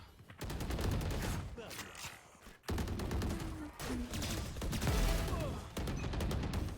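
Valorant gameplay, with Phantom rifle fire crackling in rapid automatic bursts broken by short pauses, loud and close, and a voice talking over it in places.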